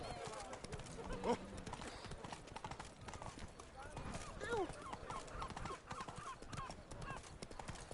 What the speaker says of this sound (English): I know there's a fast travel there, but we're riding the horse in.